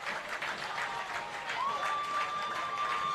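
High school football game crowd at Rockwood at Kingston applauding and cheering, a dense, steady wash of claps and voices close by, with a whistle-like tone rising midway and holding.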